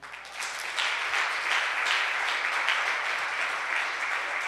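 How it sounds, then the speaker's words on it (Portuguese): A church congregation claps together in steady, dense applause that swells within the first second and holds at an even level throughout, filling the room without any talking. "Aplauda ao Senhor."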